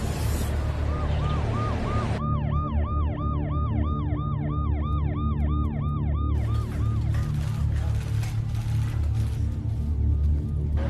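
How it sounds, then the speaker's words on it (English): Ambulance sirens wail outside a major hospital in Delhi, loud and close, with rapid repeating yelps over steady road traffic noise that continues after the sirens fade out. "where ambulances have been coming every few minutes"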